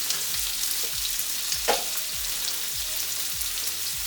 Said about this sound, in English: Move the onions around a bit in that oil. And we will let the onions wilt a little bit.